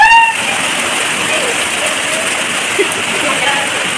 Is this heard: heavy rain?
yes